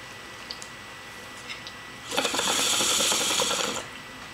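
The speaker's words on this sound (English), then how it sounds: "I'm gonna get smoking that bong." A bong being smoked during a live stream in Oakland, California gives a steady bubbling, gurgling rattle lasting nearly two seconds after a quiet stretch with a few faint clicks.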